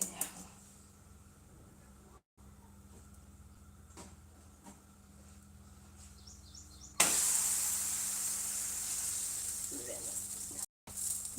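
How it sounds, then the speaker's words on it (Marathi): Thalipeeth roasting in oil on a pan, with a steady soft sizzle that jumps louder and brighter partway through as more oil goes in, continuing as a constant hiss. "तर आता भाजून घेऊया पहिले थोडंसं तेल टाकूया आपण भाजून"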